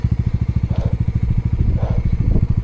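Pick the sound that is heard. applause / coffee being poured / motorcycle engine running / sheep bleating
motorcycle engine running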